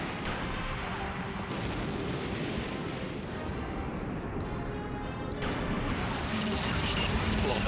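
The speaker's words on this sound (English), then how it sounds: "Broadside on the port side." Broadside cannon fire from a ship's port side in Super Robot Wars T, a dense, continuous barrage of booming shots and crashes rolling on steadily without pause.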